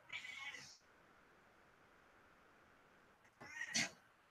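A house cat gives two short meows during an indoor livestream, one at the start and one near the end, with a quiet hum between them.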